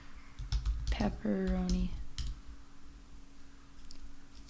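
Quick keystrokes typing a word on a computer keyboard, a faint cluster of light clicks in a quiet room, with a person speaking briefly over the middle of the typing.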